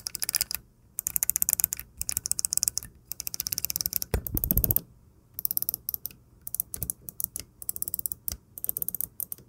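Crisp tact-switch face buttons on a Thrustmaster eSwap S Pro controller click rapidly in close-up, bursts of sharp clicks pressed in quick runs with short pauses between them.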